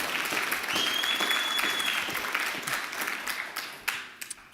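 Conference audience at a human trafficking disruptors summit applauding; sustained, fairly close clapping that fades out into a few scattered final claps.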